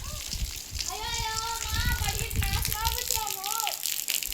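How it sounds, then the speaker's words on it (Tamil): Water used to wash a rooftop terrace pours down in a steady, broad rushing gush, partly masked by people talking nearby throughout. "மேலே ஃபுல்லாக மாடி ஃபுல்லாக கழுவி தள்ளுற தண்ணி மொத்தம் இப்படி வருது தெரியுது"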